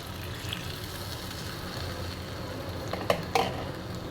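Low bubbling simmer of chicken in dark caramel sauce in a pan after adding water, with faint scraping, then a couple of sharp utensil clinks against the pan near the end.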